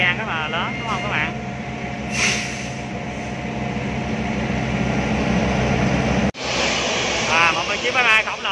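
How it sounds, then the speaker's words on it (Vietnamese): Loud, steady roar of a large airliner approaching at Tan Son Nhat Airport, sustained engine noise filling the clip with a brief dropout near the end, while someone talks over it. "Một chiếc máy bay khổng lồ đang tiến tới đó các bạn ơi, rất là lớn các bạn."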